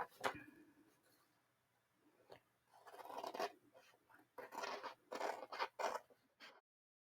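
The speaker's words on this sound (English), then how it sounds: "So now I'm just going to trim the excess off here." Scissors trimming excess paper on a small handmade Christmas mini journal, heard as close, quiet snipping and scraping in several short clusters, alone in a still room.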